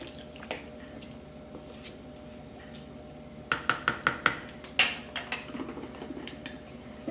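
Broccoli florets are stirred into a pot of beef stew: a quick run of close, sharp knocks and wet squishes from the spoon against the pot, following a quieter stretch of faint clatter.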